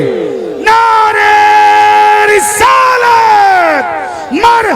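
Large crowd roaring a chanted religious slogan in unison, long swelling shouts rising and falling in waves at close, loud range.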